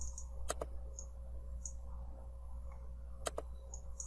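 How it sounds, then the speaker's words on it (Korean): Two pairs of sharp mouse clicks sound during Photoshop work, one double click near the start and another near the end, faint and close over a quiet room hum. "클릭."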